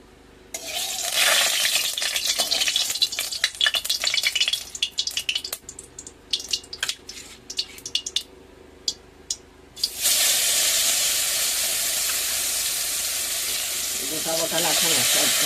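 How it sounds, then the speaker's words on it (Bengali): Whole lata fish frying in oil in a pan, loud close sizzling with clinks and stirring scrapes in the first half, then a steady intense sizzle near the end. "মাছগুলো এবার ভাজা করব।"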